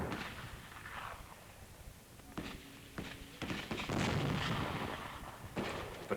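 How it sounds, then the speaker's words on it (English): Mortar fire covering an infantry patrol on Saipan in 1944: several faint, distant thuds and sharp reports scattered irregularly over a crackling, noisy old field recording. "Patrol is given mortar protection."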